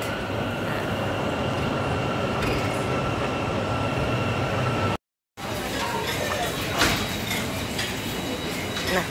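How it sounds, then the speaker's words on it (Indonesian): Halkapinar metro station, with a loud continuous rumble of a train and rail noise filling the space, a brief dropout midway, and faint voices in the background. "ini namanya stasiun Halkapinar"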